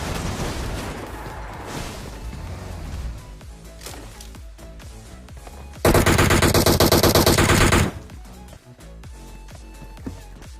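Sustained automatic gunfire from a shooting video game: a loud, dense burst of rapid shots lasting about two seconds mid-clip, with scattered quieter game shots and effects before and after.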